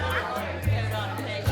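A crowd at a political campaign fundraiser chatters in a dense indoor babble, with voices overlapping and a low hum beneath.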